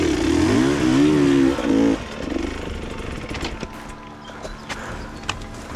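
An enduro motorcycle labours in first gear on a rough obstacle climb, its engine loud and close, wavering in pitch before it drops to a lower, uneven putter with clicks and knocks.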